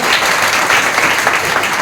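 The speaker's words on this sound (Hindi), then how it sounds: "चलिए शानदार ताली बजा लीजिए अपने लिए" Steady, loud audience applause fills a Hindi-language mini seminar hall, a dense wash of many hands clapping without pause from start to finish.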